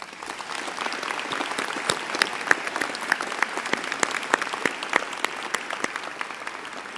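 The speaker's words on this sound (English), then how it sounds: "Please join me and the platform party in a round of applause in their honor." Steady, sustained applause from a large audience at a graduation convocation, an even wash of many clapping hands throughout with no talking.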